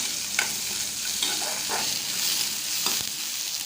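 Small onions sautéing in a pan for a Tamil-style potato fry, a steady close sizzle with a few louder stirring scrapes spread across the clip, no voices.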